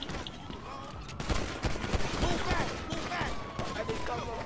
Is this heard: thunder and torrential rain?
no